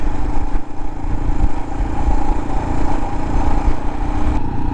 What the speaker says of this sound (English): There's definitely a distinctive sound about the bike too.